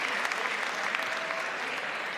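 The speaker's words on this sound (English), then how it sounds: "And the crowd show their appreciation." A crowd at a professional padel match in Miami applauds after a long rally, a steady dense clapping that holds for the whole stretch, heard from within the arena.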